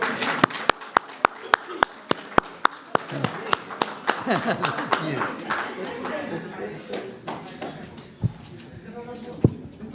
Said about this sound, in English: Let's give a round of applause for Reverend Dr. David Hanna.